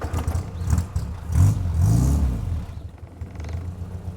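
A 1968 Morgan 4/4 engine idling just after a cold start, a steady close low rumble with a slight rise and fall in pitch partway through, then settling into an even idle.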